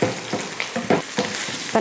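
Oil crackles and sizzles in short bursts, a quick rhythmic spitting as spices fry in a hot pan for tempering a spinach curry.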